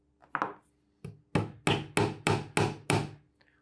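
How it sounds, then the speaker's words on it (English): Hammer blows tack a nail into a wooden bookshelf, a few light taps and then six firm, evenly spaced strikes, close and distinct with no talk. "you can start by tacking in your first nail"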